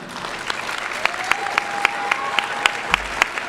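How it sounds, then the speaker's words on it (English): Scattered clapping at a high school graduation ceremony, a few distinct claps spaced out over a steady crowd hum, with a brief sustained tone in the middle. "The applause breaks in like 2 seconds."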